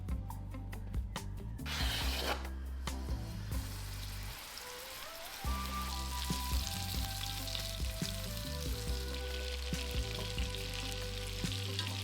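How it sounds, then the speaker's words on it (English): Golf-ball-sized meatballs pan frying until golden, a continuous sizzle and spatter under music that runs throughout, with a brief quieter stretch midway. "pan fry until golden on all sides"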